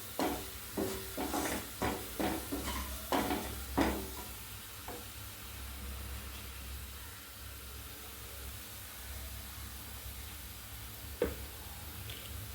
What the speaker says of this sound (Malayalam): സവാള നന്നായി മൂക്കട്ടെ കേട്ടോ.